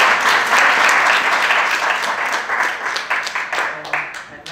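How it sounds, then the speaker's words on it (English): An audience at an academic session on adult math teaching gives a big round of applause, dense clapping at first that gradually thins and fades toward the end. "I will ask you to do a big applause to Marta"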